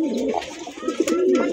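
Racer pigeons coo close by, a couple of soft throaty rolling calls with a clear rising and falling coo near the end, alone and fairly loud.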